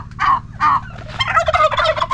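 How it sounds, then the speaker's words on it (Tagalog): Turkeys on a farm gobble loudly and close by, two distinct gobbles followed by a longer rapid rattling gobble, with no human voices. "What does the turkey say?"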